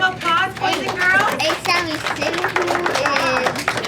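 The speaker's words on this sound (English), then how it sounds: "let's give them a round of applause, boys and girls" Classroom of young children clapping and chattering together, loud and close, their voices prominent over scattered, uneven applause.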